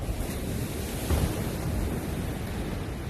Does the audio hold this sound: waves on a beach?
yes